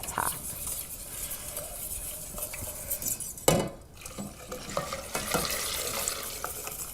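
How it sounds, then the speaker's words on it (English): Whisk stirring hot milk into a thick white sauce in a pan, a steady soft scraping and swishing with light clinks and one louder clatter partway through, no talk. "slowly add the hot milk, and you'll see the whole thing becomes a really nice, thick white sauce. Add it whisking"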